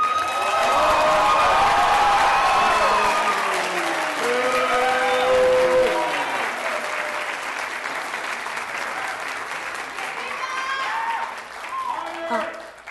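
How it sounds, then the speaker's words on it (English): Loud applause and cheering from a crowd at a city council meeting, with shouts and voices mixed in over the clapping, gradually thinning toward the end. "Could we refrain from clapping and getting out of control, please?"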